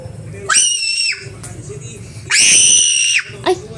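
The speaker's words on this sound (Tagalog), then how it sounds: "Ay, ba't ang lakas sumigaw?" A person screams loudly inside a supermarket in Caloocan City, two long piercing shrieks of under a second and about a second, then a brief short yelp, with quiet store ambience between.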